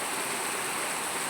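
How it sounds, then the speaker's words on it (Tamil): Heavy rain pours on a road, a dense, steady hiss with no breaks, loud and close. "கடுமையான மழை"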